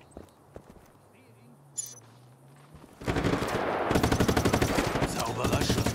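Rapid automatic gunfire erupts in a Just Cause 3 firefight, loud dense bursts taking over halfway through after quieter game ambience with a horse's hoofbeats and whinny; game voices speak.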